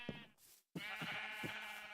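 Sheep bleat in a video game, a few quavering calls close by with a brief silent gap partway through, no voices present.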